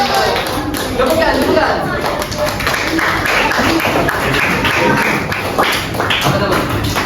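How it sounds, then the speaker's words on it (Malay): Children in an Islamic education class clap together in a steady tapping rhythm, dense and close, with voices talking over the clapping throughout. "Okey, bagi tepukan."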